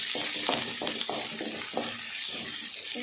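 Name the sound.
sautéing shallots, curry leaves and garlic in a pan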